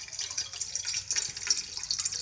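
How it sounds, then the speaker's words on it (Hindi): Water runs steadily from a tap into household pots and containers during the monsoon, a soft continuous splashing with no voices. "पानी भर के रखना पैंदा"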